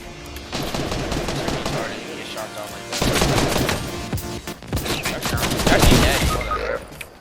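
Fortnite battle gunfire sounds in loud, dense rapid bursts and volleys that run almost without a break, with brief gaps between flurries.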